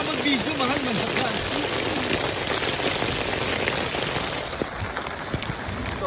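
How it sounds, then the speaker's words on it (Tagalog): Rain falls at Mt Charleston near a trailhead picnic spot, a dense steady patter of drops on surfaces close by, while people talk and one voice hums over it. "It's raining here in Mt Charleston."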